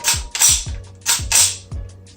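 Charging handle on an APS Phantom Extremis Mark IV airsoft gun worked repeatedly, giving close mechanical ratcheting clacks in about three pull-and-release cycles, each a sharp click followed by a metallic slide.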